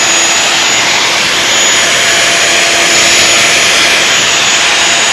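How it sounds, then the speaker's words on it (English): Router cutting a wild grass pattern template: a loud, steady high-pitched whine that holds without a break, close by and with no talk over it. "we're just starting to route this out so we can get a pattern shown for you"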